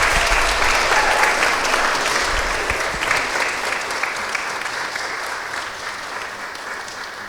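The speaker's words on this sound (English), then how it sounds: "let's give all of these musicians a round of applause" An audience applauds a group of musicians with a full, steady round of clapping that slowly fades in loudness over several seconds, with no talk on top.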